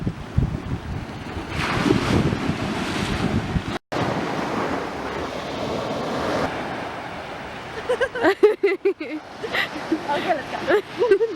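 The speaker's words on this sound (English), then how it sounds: "So it's just really nice to listen to waves." Ocean surf washing onto the shore near Barcelona, a steady roar with heavy wind buffeting the microphone and a brief dropout, while someone talks over it.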